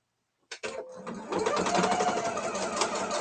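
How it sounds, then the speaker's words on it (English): A sewing machine starts up and runs steadily, stitching a seam on quilting half square triangles, close and fairly loud with a dense mechanical whir, after a couple of brief clicks at the start. "I'm just going to sew on one side"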